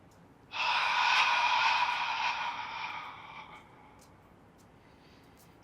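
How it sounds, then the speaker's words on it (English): A slow, deep exhalation during a Pilates and Qigong exercise, a long breathy rush lasting about three seconds that swells, then fades into quiet room tone, with no talk over it. "Let's take 3 more breaths together."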